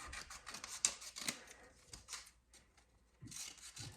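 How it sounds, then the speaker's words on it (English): Scissors cutting through paper, a quiet series of close snips and crisp rustles in irregular bursts, with no talking. "I'm gonna take my scissors and I'm gonna cut it"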